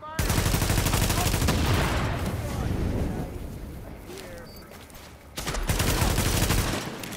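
Loud gunfire in The Division, including a distant sniper, breaks out in heavy sustained volleys, dies down to quieter rumbling, then bursts out again near the end.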